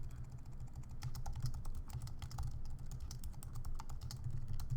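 Rapid typing on a computer keyboard, a quiet, steady patter of key clicks close by, continuous for a few seconds with no voices.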